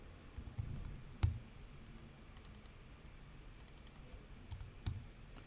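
Light keyboard typing, a scatter of soft key clicks in short bursts with a few louder taps, in a quiet room.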